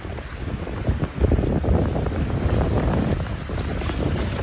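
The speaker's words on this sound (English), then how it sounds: "As we sail across the bay, we have the wind behind us and beginning to ease" Sailboat running downwind across a bay in the West Solent, with steady rushing wind buffeting the microphone over the low wash of water against the hull.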